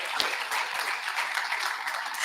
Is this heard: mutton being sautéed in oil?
no